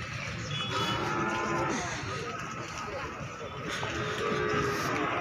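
Cattle low amid a steady crowd babble at a busy morning livestock market in Pati, with voices and general hubbub throughout.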